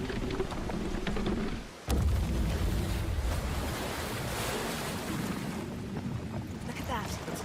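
Water waves in a video game: a loud, broad rushing wash with a sudden surging onset, rolling steadily like surf and fading slightly toward the end.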